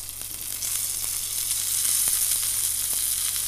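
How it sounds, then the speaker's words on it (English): Steak searing in a hot pan, its fatty edge pressed down, gives a steady close sizzle and fry with faint crackles throughout, no voices. "Another little sear on its skin."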